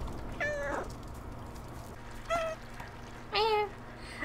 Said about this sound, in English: I'm gonna be meowing a lot, by the way.